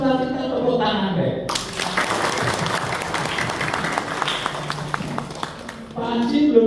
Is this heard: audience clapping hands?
yes